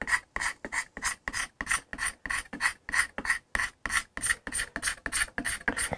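A steel card scraper rasps across the wooden body of a Hofner Galaxie guitar in a steady rhythm of about three strokes per second, each stroke a crisp, close scrape with short gaps between.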